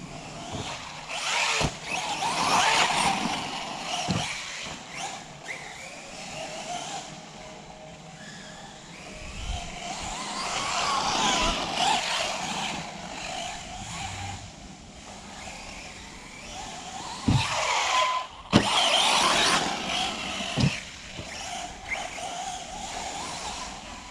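An Arrma Senton RC monster truck drives about with a high electric motor whine that swells and fades as it accelerates and turns, mixed with tire scrub and occasional knocks over a continuous outdoor background.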